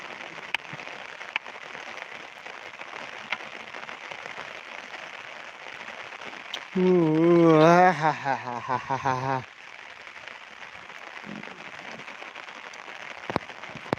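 Constant patter of rain on a surface throughout, with a short burst of sung or spoken voice partway through and occasional sharp drips.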